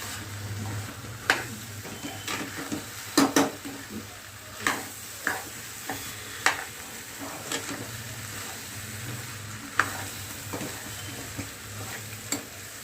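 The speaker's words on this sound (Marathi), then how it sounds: "आणि सगळं असं मिक्स करून घेऊया." Khichdi with spices being stirred in a pot (kadhai), a soft continuous sizzle broken by regular scraping knocks of the spoon against the pan, close and fairly quiet.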